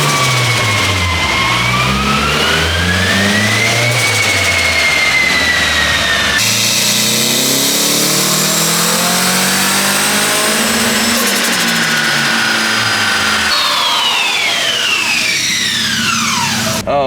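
A turbocharged Nissan SR20DE revs hard on a dyno, loud and continuous throughout, with engine pitch rising and falling through sweeping harmonics and a sharp change in tone partway through as the run resets.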